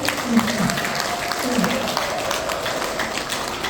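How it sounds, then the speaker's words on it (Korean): Audience applause in a large lecture hall during a rally on election fraud, steady clapping throughout, moderately loud, with a voice speaking over it at the start. "박수 한번 줄까요?"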